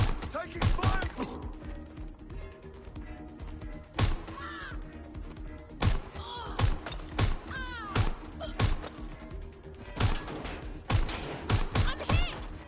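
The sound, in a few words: gunfire from the Watch Dogs Legion video game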